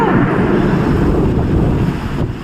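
Strong wind buffets the microphone in a steady, loud roar through a heavy morning rainstorm with lightning, as trees sway outdoors; the broadband rush fills the whole stretch with no voices.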